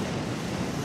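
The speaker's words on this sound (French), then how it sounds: "Oh là là, le vent." Strong wind blows in a broad, steady rush of noise, buffeting close to the microphone for a brief moment, with no voices.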